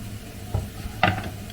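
Meat going into a pot of rendang, with two brief close sizzling bursts about half a second apart over a low kitchen hum.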